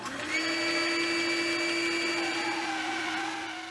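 A bandsaw fitted with a half-inch blade cuts freehand through four-inch-thick maple for doorway trim moulding, a loud steady motor whine with a sustained tonal hum, close and without talk.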